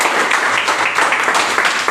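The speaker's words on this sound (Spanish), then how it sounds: "dale un fuerte aplauso al Señor" Loud, rhythmic applause from a church congregation in a Spanish-language service, a dense pulsing clatter of many hands close by with a few faint voices mixed in.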